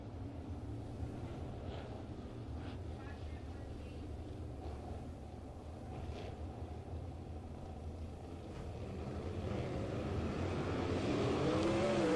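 Engines of 360 sprint cars at a dirt-track race launching on the green flag: a constant, fairly distant roar that grows louder toward the end as the pack pulls away.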